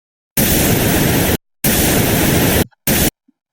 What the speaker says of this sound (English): Aha, so instantiate a white noise